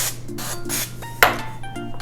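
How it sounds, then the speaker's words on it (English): A short hiss of cooking spray sounds once at close range onto Italian Easter bread dough, followed by a light tap, with a steady hum in the background. "I'm going to give it a little spray"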